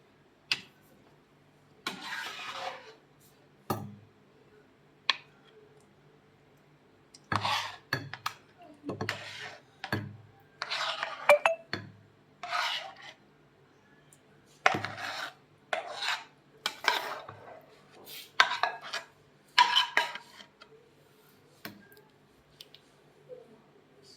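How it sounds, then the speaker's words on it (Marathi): Thick Karachi halwa mixture is scraped out of a pan into a ghee-greased container, making a series of close, rasping scrapes in irregular bursts. Quiet gaps fall between the strokes and no one speaks. "हे हलव्याचं मिश्रण मी त्यामध्ये काढणार आहे बघा"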